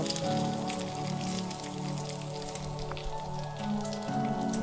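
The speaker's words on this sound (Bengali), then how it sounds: "এরপর সামান্য পরিমাণে হলুদ দিয়ে আলুগুলোকে নেড়েচেড়ে লাল করে ভেজে নেব।" Cut potatoes frying in hot oil with a pinch of turmeric, being stirred until reddened: a dense, steady close sizzle with soft popping over a low background hum, no talk.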